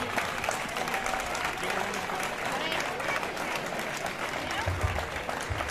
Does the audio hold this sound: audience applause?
yes